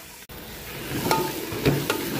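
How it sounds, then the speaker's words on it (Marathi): Spices tempered in hot oil for a white rassa (non-vegetarian curry) at a Kolhapur dhaba kitchen, giving a brief close sizzle with a few sharp crackles and stirring clinks, no talk. "तर आता फोडणी मारायचं आलं आहे आपल्या पांढरा रस्स्याची मांसाहारी"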